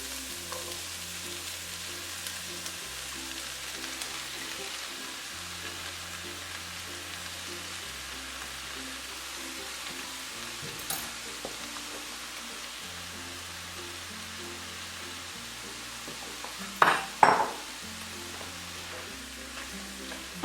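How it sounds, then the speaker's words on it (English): Onion and diced tomatoes frying in a pan, a steady low sizzle running throughout with a couple of brief louder scrapes or stirs near the end. "once your onion has cooked, and it's nice and translucent, I'm going to add my diced tomatoes."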